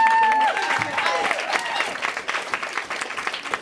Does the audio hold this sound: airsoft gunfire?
no